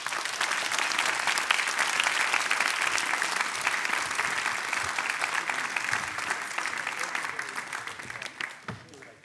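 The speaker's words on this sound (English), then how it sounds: "let's hear a round of applause for our panel" A conference crowd in Berlin gives sustained applause for a panel, dense clapping that holds steady and then tapers off toward the end, with a few voices mixed in.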